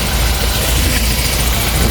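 A motorcycle engine runs steadily and loudly throughout, a continuous low rumble with a broad roar above it and no pauses.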